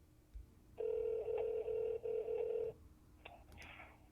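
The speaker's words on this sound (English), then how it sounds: "Please dial the 6-digit ID." Telephone keypad tones: a run of short, clear electronic beeps pressed in quick succession, followed by a few fainter clicks and tones in a quiet setting.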